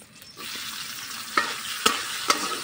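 Green chili and spice paste frying in oil in a wok, a steady sizzle with a few sharp scraping stirs near the end.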